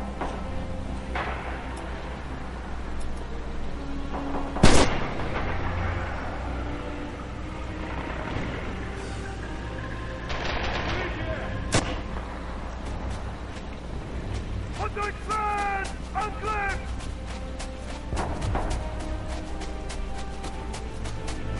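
Gunfire in the World War II shooter Red Orchestra 2 during multiplayer, with a few sharp loud shots and scattered distant bursts over a continuous battlefield rumble.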